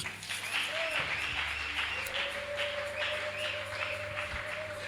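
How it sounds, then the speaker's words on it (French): A church congregation applauds during a worship service, steady sustained clapping filling the room, with a faint voice and tones underneath. "Acclamons pour le Seigneur."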